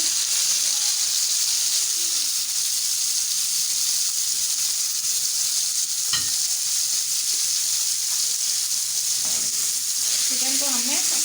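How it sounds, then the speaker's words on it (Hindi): Marinated chicken fries steadily in one to two tablespoons of hot oil in a pan, a continuous close sizzle and hiss throughout with brief stirring scrapes and clinks. "इसमें मैंने 1 से 2 टेबल स्पून ऑयल डाला और ये चिकन हम डाल के इसको पकाएंगे"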